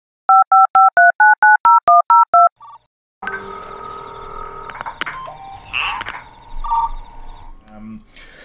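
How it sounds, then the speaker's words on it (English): DTMF telephone dialing tones from WOPR simulator software, a fast run of about ten loud, crisp keypad beeps, followed by modem-like electronic tones and buzzing. "it didn't actually dial the DTMF tones, but that's another change that I've made since the last video. I've included a DTMF dialer."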